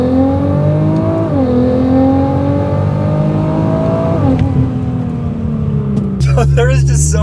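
Nissan GTR making over 600 wheel horsepower launching on cold tires, its engine held at a loud, steady high rev as the wheels spin, then dropping pitch with a shift near the end.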